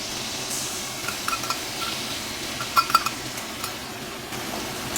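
Spice paste stirred into potatoes in a frying pan, with a soft steady sizzle of oil and a few sharp clinks of a utensil against the pan, close and quiet, without talk.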